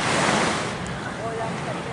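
Steady wash of sea waves breaking on Siloso Beach in Singapore, a broad continuous surf roar mixed with wind buffeting the microphone.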